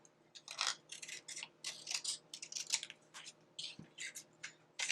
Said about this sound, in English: I'm going to go ahead and trim this down a little bit.